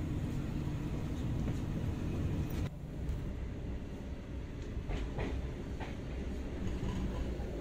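The Argo Cirebon passenger train rolls along the rails between Jakarta and Cirebon, heard from inside as a steady loud rumble with periodic wheel clacks and rattles, and no talking.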